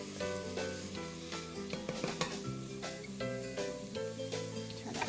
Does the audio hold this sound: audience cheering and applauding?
no